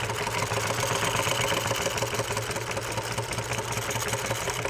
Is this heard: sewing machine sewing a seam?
yes